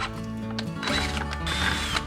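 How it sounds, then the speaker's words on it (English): A drill grinds nearby, drilling out a hole to fit a large bolt, its motor whining with shifting pitch and catching in uneven bursts, with no one talking. "So what I have to do now is drill this hole out perfectly."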